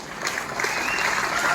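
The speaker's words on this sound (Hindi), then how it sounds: "इसके लिए जोरदार ताली हो जाए एक बार" An audience at a network marketing event claps, a dense, steady patter of many hands heard as a continuous wash at moderate loudness.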